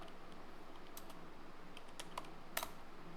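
Someone types the words car driving on a computer keyboard, a quiet run of light key clicks with a couple of sharper taps, with no one speaking.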